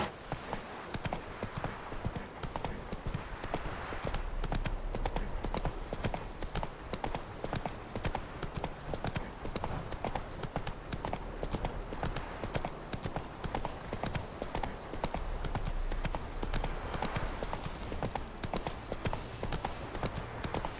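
Roach, a horse in The Witcher 3, gallops steadily for the whole stretch, hoofbeats drumming in a continuous fast rhythm with outdoor ambience and no voices.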